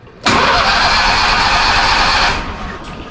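Commercial lawn mower engine cranking and catching in hot weather with no choke, a loud sudden mechanical roar lasting about two seconds before it fades and dies out.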